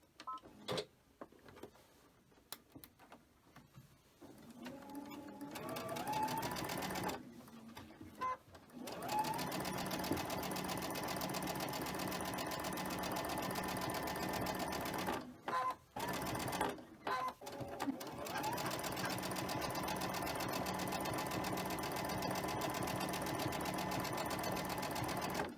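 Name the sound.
sewing machine stitching quilt fabric pieces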